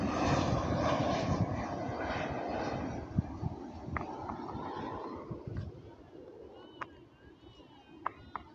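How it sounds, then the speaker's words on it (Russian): Airplanes descending over a park toward Adler airport make a loud, broad jet roar that slowly fades across the clip, leaving quieter outdoor ambience with a few brief bird chirps near the end. "Практически над парком в аэропорт Адлер идут на посадку самолеты."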